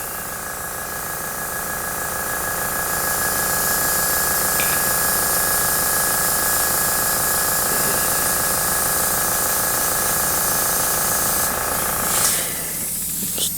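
Spray paint going on in light coats for a reverse wash painting, a steady continuous hiss lasting most of the clip, close and even, then cutting off near the end with a short rustle.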